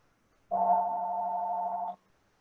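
A single steady electronic ring tone or alert, about a second and a half long with a constant pitch, sounds clearly in a quiet room during an online bridge game. No voices are heard.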